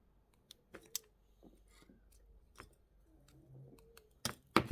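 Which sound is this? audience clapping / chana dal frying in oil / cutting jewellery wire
cutting jewellery wire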